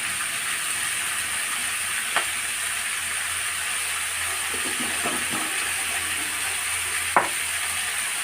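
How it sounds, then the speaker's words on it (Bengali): Chicken pieces sautéing lightly in a pan for chili chicken give a steady, even sizzle, close and fairly loud, with a couple of faint clinks from stirring. "এগুলো আমি বেশি লাল লাল করে ভাজবো না, হালকা সতে টাইপের করব।"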